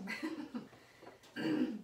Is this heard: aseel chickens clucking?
no